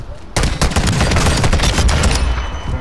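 Rapid gunfire from a gun in Call of Duty: Modern Warfare 2 bursts in suddenly, a loud close fusillade of dense, repeated shots lasting a couple of seconds, with faint voices underneath.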